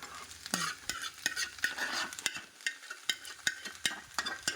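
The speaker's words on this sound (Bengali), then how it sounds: "চলো এর ভেতরে এবার মিশিয়ে দেবো হোয়াইট সস যেটা আমি নিজে বানালাম" White sauce is stirred into sweet potato cream pasta in a pan, with repeated close scraping and clinking spoon strokes over a light sizzle and no speech.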